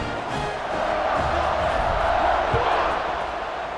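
Football stadium crowd at a Montana State versus Nevada game cheering just before kickoff, a steady, dense roar of many voices that swells slightly in the middle, heard from a distance.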